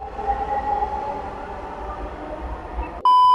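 A metro rail train runs along with a steady, close rolling rumble and a faint whine, then a sharp tonal chime cuts in near the end; no voices.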